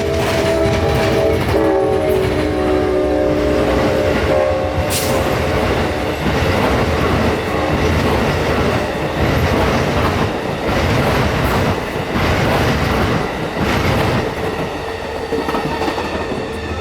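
Amtrak 92 passenger train rolls past a platform in Plant City, loud and close, with blaring horn blasts, rumbling wheels and clickety-clack throughout, no voices.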